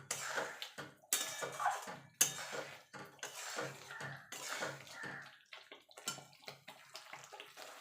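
Paneer is stirred into the spice mix in a pan for an onion- and garlic-free matar paneer, making soft, rhythmic scraping and knocking strokes that repeat at a quiet, close level.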